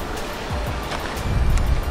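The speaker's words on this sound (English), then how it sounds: "a lot of waves here. Very, very huge waves here." Large surf rolls onto a Florida beach, a steady wash of breaking waves that swells louder toward the end, with wind buffeting the microphone and no voices.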